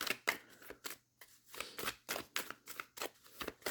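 A tarot deck is shuffled by hand close up, a quick run of crisp riffling bursts separated by brief pauses, with no voices over it.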